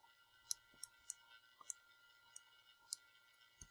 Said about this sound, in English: let me just type that into my calculator